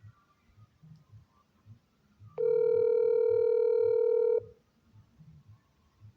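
A telephone dial tone sounds as a steady, clean electronic hum for about two seconds, starting and stopping abruptly over a faint, low background murmur.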